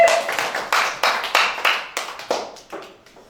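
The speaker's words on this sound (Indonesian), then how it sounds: "Tepuk tangan Bapak Ibu." Claps from an audience in a hall after a speaker is introduced at a school dissemination session, sounding as a sparse run of separate, fairly close hand claps that thins out and fades over a few seconds.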